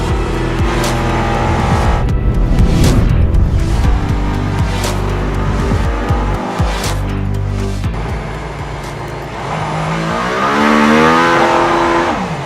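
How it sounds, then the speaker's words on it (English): A Mercedes-AMG ONE hybrid hypercar engine runs at high RPM, a loud, sustained harsh drone with rising and falling revs and sharp shifts, heard close up on the way to the Barcelona circuit. "the engine is running at fairly high RPM"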